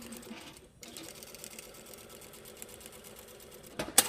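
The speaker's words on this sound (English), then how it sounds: "Stitching quite close to the raw edge." A sewing machine runs a steady close hem stitch near the raw edge of fabric, a continuous mechanical whir, briefly pausing then resuming, with a sharper clack at the end.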